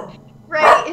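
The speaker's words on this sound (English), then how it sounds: "He's literally laying underneath a blanket barking." A dog lying underneath a blanket gives a single short, muffled bark after a moment of quiet rustling, fairly close.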